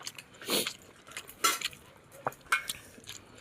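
Rice being mixed by hand on a plate with kohlrabi and soft, fully broken-down kalda fish: a few brief, close squishy presses and light clinks against quiet background, without talking.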